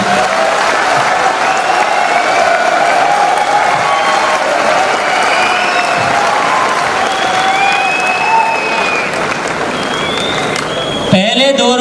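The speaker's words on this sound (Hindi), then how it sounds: "आप इसके लिए जी भर के तालियां बजा सकते हैं" Sustained applause from a large audience at an RCM direct-selling business seminar in India, steady and loud for about eleven seconds with whoops and cheers mixed in, then abruptly cutting off near the end.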